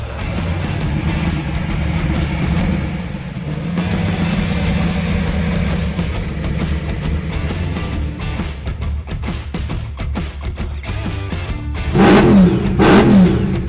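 Race car engine revving hard and loud over a busy mechanical backdrop, with a sharper surge of throttle near the end.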